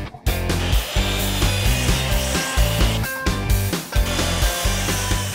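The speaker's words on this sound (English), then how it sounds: "cut our 2x8 frames at 46 inches" Power saw cutting 2x8 wood boards for a sandbox frame, giving a loud close rhythmic series of buzzing strokes with short gaps, alone without talking.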